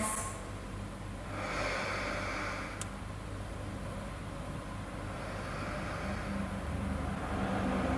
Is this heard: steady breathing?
yes